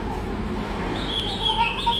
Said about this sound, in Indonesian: Mbak burung apa itu? Burung puyuh.